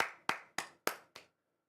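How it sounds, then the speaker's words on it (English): Clapping during a Celtic v Livingston football watchalong: five sharp, evenly spaced hand claps from a single nearby person, quiet and alone, then silence. "Round of applause for the boys."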